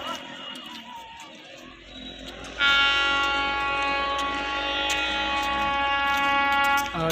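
Puranpur junction railway station: quiet rumbling ambience, then a loud, near train horn blares and holds steadily for several seconds over the rail noise.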